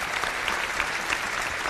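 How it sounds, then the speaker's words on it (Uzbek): Audience applauding a young female contestant on the Uzbek singing show Yangi Ovoz, a dense, steady wash of clapping throughout with no voices on top. "Yana bitta qarsaklar mana shu qizimizga"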